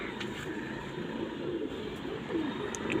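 Pigeons, a prized breeding pair and their young, coo softly amid steady outdoor background noise, with a faint bird call or two rising briefly over the low murmur.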